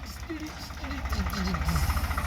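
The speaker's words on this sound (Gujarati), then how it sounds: "તો આ આ ટ્રેક્ટર આવી ગયું હોય" Low rhythmic chugging of a tractor engine running steadily, with a person talking over it.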